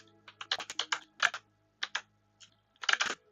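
Crisp keystrokes on a computer keyboard as a command is typed into a terminal, close and clear, in uneven bursts of quick clicks separated by short silences.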